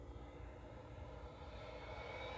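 A steady engine drone from an E-flite 1.5 m radio-controlled warbird, either the Fw-190 or the P-51, at full throttle, holding a constant faint buzz without variation.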